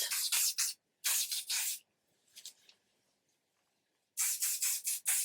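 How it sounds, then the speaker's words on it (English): Silhouette Pure Formula Super Hold hairspray is sprayed onto hair in several short hissing bursts, three quick ones and then three more, a faint rustle in the gap, and a final set of close, loud sprays. "The best hairspray on the market is this. Silhouette it's called. Pure Formula Invisible Hold. This is the Super Hold one."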